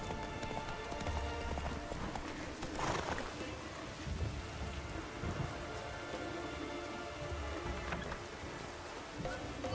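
Hooves of Geralt's horse Roach in The Witcher 3 game drum in a steady gallop, half buried under heavy rain and rumbling thunder.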